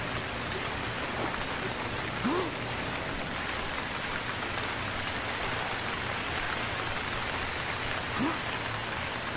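Steady rain hisses in the survival video game Stranded Deep, a continuous wash of falling drops heard alone and fairly loud throughout, with a couple of faint brief chirps.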